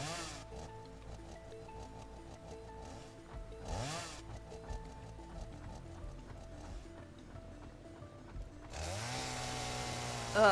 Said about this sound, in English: Looks like my chainsaw's laughing.